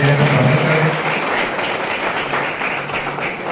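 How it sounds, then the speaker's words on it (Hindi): Strong applause from an audience welcoming a state minister at an industrial training institute event in Jhakar, a dense steady wash of clapping that holds loud throughout, with a low voice briefly audible at the start. "एक बार आप सबसे आग्रह करूं जोरदार तालियां देकर स्वागत करें"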